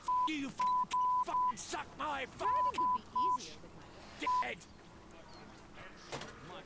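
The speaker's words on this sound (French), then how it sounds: "Il y avait beaucoup de bips quand même." Electronic beeps from the video game Saints Row IV, a run of short, evenly pitched tones repeating in quick bursts over roughly the first four and a half seconds, then fading to a quieter game backdrop.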